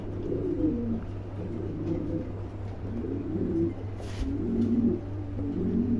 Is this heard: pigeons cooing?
yes